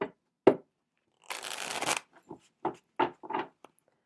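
Tarot cards being shuffled by hand: a few quick riffles and taps, then a sustained papery flutter of cards, followed by several short snapping shuffles and taps, close and fairly soft, with no voices.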